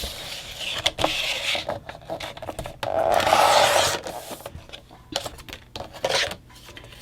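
Scissors cutting through a Christmas card, close crisp snips and scraping paper strokes in uneven bursts, with a longer rasping cut in the middle, no talk.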